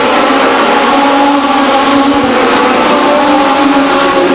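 Race cars lapping Stockton 99 Speedway, a loud continuous engine roar with steady high-pitched drone, close and constant throughout with no pauses.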